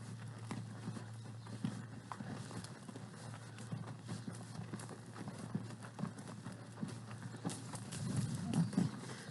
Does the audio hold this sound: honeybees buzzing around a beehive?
no